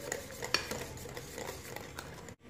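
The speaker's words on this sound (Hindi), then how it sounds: "अब इसको मैं अच्छी तरह मिक्स करूंगी।" A spoon clinks and scrapes around a bowl while room-temperature milk is stirred into a bread pudding cream mixture, quiet irregular taps and swishes that end abruptly.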